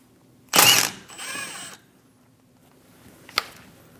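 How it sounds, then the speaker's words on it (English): An 11mm socket on a ratchet loosens the brake caliper banjo bolt on a 2001-2006 Chevrolet Silverado 2500 HD, giving a short burst of clicking ratchet strokes followed by a lighter metallic tick, close and alone. "Using an 11mm socket, remove the banjo bolt for the caliper."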